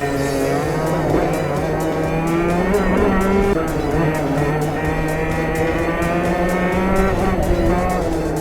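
Racing karts at the Llandow circuit run in a tight 100cc pack, their high-revving engines buzzing loud and continuous up close, pitch rising and falling through the corners.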